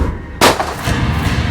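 A single loud Krieghoff K80 shotgun blast on an outdoor parcours, sharp and close, followed by a short decaying tail over low ambient noise.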